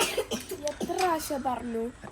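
A child with a fever and cold coughs a few times, mixed with whimpering, voiced sounds close to the microphone.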